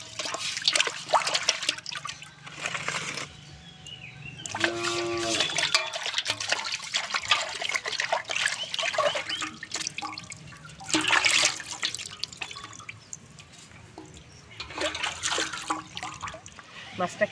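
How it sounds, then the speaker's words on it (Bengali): Freshly scaled and cleaned country fish rinsed in a basin of water, with bursts of splashing and trickling alternating with pouring sounds, close and moderately loud, while a person talks throughout. "আমি জলের ভেতরে দিয়ে ধুয়ে নেব।"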